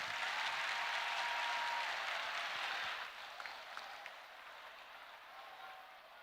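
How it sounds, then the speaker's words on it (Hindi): A large gathering of university students breaks into loud applause that fades into scattered, quieter claps after a few seconds, with faint crowd murmur underneath. "ताली बजना चाहिए इस बात पर"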